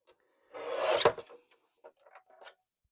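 Trimming pieces of card for a handmade card: a short rasping cut lasting about half a second, followed by a few faint scraps and taps of the paper, quiet and close.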